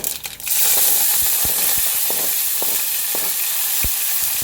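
Finely chopped curry leaves and methi hit hot oil with urad dal for coconut chutney, bursting into a loud, dense sizzle that holds steady, with sharp pops and spoon-stirring clicks scattered through it.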